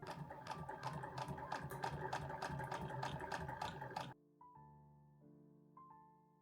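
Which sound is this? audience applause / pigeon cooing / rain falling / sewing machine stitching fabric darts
sewing machine stitching fabric darts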